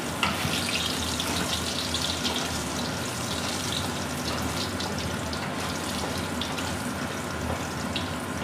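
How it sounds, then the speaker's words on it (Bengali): Potatoes frying with salt in a pan, a steady loud hiss and sizzle that runs unbroken throughout with no talking. "আলুগুলো ভালো করে ভেজে নেব, একটু লবণ দিয়ে নেবো এর মধ্যে"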